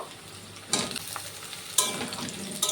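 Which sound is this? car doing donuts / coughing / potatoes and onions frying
potatoes and onions frying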